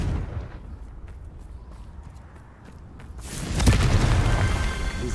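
A Confringo fire spell bursts in Hogwarts Legacy, a loud, broad, rumbling explosion swelling suddenly after a stretch of low ambient game rumble, then sustaining with crackling fire.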